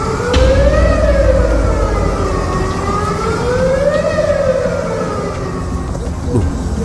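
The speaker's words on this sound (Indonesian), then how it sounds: "Ada sirine guys, siren ya," A wailing siren rises and falls in slow repeated sweeps amid a flood in Selangor, loud and steady over a constant rumble of background noise, with voices audible now and then.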